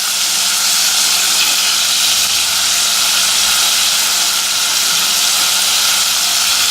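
Onions frying in a little oil in a pot for a beef dish, giving a steady, loud, unbroken sizzling hiss that holds evenly throughout with no gaps.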